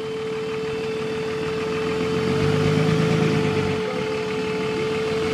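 A loud diesel truck engine idling with a steady low rumble and a constant whining tone, swelling briefly in the middle before settling back, with no talk over it.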